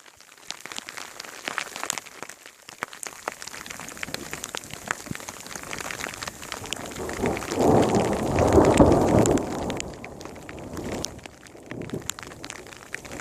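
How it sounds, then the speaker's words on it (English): A deep rumble of thunder during snowfall swells and rolls in the middle, on a mountain ridge near Yosemite, over a constant soft hiss of falling precipitation. No one speaks. "Thunder snow."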